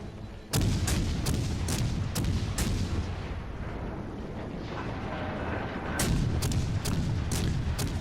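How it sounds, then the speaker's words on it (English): Repeated heavy naval gunfire from a World of Warships Legends battle: a rapid run of loud, booming salvos, then a rumbling lull before another quick burst of closely spaced shots. "we just sit here and lay on the trigger and just fire down on this guy"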